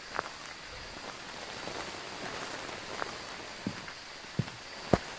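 Rain falling steadily in a Phasmophobia ghost-hunting map during a cursed hollow event, a soft continuous hiss with a few sharper drips and taps standing out near the end.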